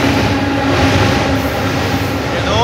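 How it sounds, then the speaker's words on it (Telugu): A train rumbles steadily across a bridge, a loud continuous roar of wheels and carriages with faint rhythmic clatter, heard close and without a break for the whole stretch. "ఏదో ట్రైన్"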